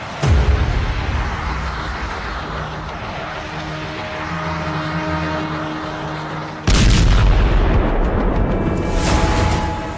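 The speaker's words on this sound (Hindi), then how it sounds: "पश्चिमी यरूशलेम में मिसाइल अटैक, तेल अवीव के करीब बेत शेमेश में हमला।" Missile strike explosions in Israel, around western Jerusalem and Beit Shemesh, rumble in a long, loud low roar that jumps to a heavier blast partway through.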